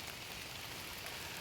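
Rain falls steadily during a night hunt for spiders outdoors, a soft, even hiss of drops on surfaces, faint and without speech.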